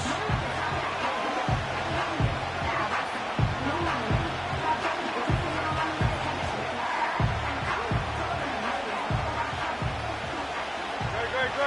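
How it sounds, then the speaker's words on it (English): A loud, sustained video game stadium crowd roars and murmurs throughout, trying to force a false start, with dull rhythmic thumps in the low end underneath. "This crowd, they're trying to force a false start."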